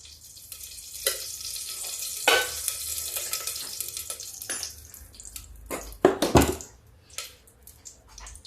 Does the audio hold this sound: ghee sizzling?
yes